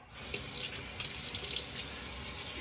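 Water runs steadily from a tap as a razor is rinsed after a wet shave, a continuous, close, full splashing hiss with no talk over it.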